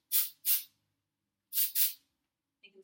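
Four short hissing spurts of hair styling spray come in two quick pairs, close and crisp, followed by a faint small click at the end.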